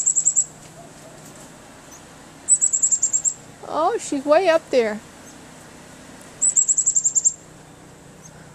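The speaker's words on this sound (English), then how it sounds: "A little chickadee singing to us on the branch of the tree." A chickadee sings from a tree branch during a snowy blizzard in Bangor, Maine, giving three bursts of quick, high, rapid notes, with people talking between them.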